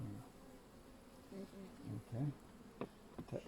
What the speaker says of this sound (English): I can see the bee society.